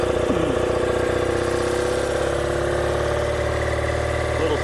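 A 1976 BMW R90S motorcycle engine idles just after coming off the choke, a close, steady, even throb with faint rising revs and no voices over it.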